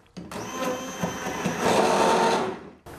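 A kitchen blender whipping a vegan chocolate ice cream mixture with ground nuts and brewed coffee, a loud steady motor whir that rises in pitch and strain, then cuts off abruptly.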